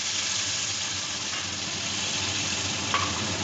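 Water splashed into a pan of fried spices while making gondhoraj kakrol bhorta, hissing in a steady, close sizzle that holds evenly throughout with no voices.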